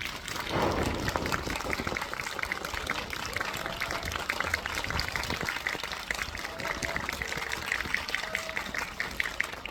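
A crowd at a CGV cinema talk event applauds to welcome actor Lee Je-hoon: a dense, steady wash of clapping that lasts nearly ten seconds without pause.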